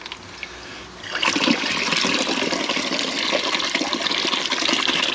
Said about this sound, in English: I think I've just flushed the toilet as well.